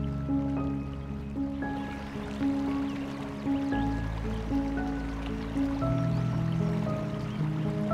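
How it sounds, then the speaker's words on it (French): A small river flowing gently through green surroundings, a steady soft trickle and burble heard nearby, with sustained tonal sounds running alongside it throughout. "Ce petit bout de rivière qui coule paisiblement dans son écrin de verdure"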